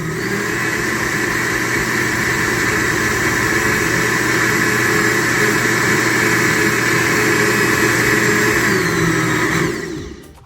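A kitchen blender on its smoothie setting whirs steady and loud, blending an avocado milkshake, with a constant motor drone and churning for about ten seconds before it cuts off sharply at the end.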